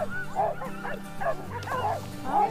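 Sled dogs barking and yipping outdoors, several excited overlapping barks and whimpers in quick bursts, fairly close, with a low steady hum beneath.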